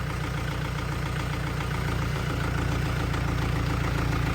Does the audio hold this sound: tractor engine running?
yes